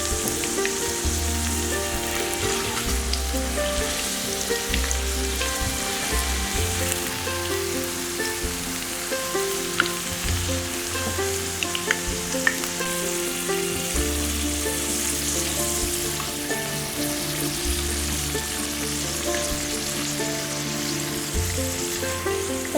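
Potatoes frying over a high flame until golden brown for mutton biriyani, giving a dense, continuous sizzle and crackle of hot oil that stays loud and steady from start to finish.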